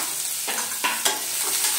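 Carrots frying in a pan give a soft, steady sizzle, with a few louder scrapes of stirring near the middle; the sound is short and close with no voices.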